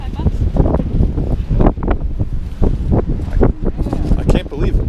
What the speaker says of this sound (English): I can't believe this wind.